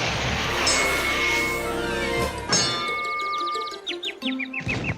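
A mallet rings a fairground strength-tester bell, giving clear metallic dings and clangs that sustain and ring out, followed by a run of quicker, higher chiming strikes near the end.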